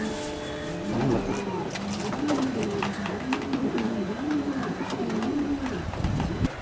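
Racing pigeons from a loft coo in a steady, repeating rhythm close by, the low throaty calls continuing throughout with other birds faintly in the background.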